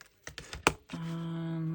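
A few quiet, quick snips come from cutting strips of double-sided sticky tape, followed by a faint steady hum.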